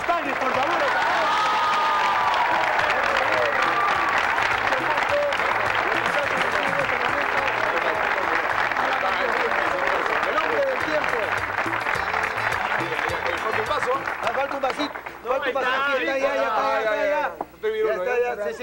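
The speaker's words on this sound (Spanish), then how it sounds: "Iremos recibiendo fuertes aplausos al hombre del tiempo, al señor Homero Cristalli, por favor." Loud, sustained audience applause with some cheering at a live comedy joke show in Spanish, steady clapping filling most of the clip before thinning near the end as a voice starts speaking.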